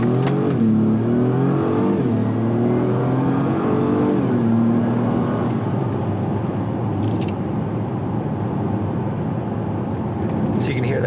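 2023 Acura MDX Type S AWD accelerating hard in sport mode. The engine note climbs in pitch, drops at each transmission upshift and climbs again. It is heard from inside the cabin as a strong, steady roar.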